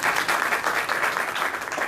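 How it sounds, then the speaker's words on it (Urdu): Audience applause at a gathering of the Khichi Ittehad Pakistan, a dense, steady patter of many hands clapping close by, sustained evenly throughout without voices. "ذرا تالی لگا دے ذرا"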